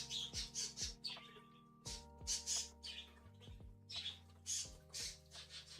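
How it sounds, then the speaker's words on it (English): Pet birds squawk and chirp in repeated sharp bursts, agitated and overlapping, over a steady low hum, faint and without talk. "I apologize, my birds seem to have an issue today."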